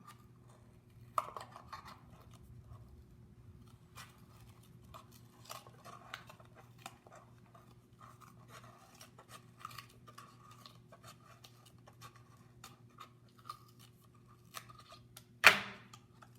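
Scissors cut a hole in the bottom of a paper or plastic cup, making faint, scattered snips and clicks that end in one sharp, louder snip.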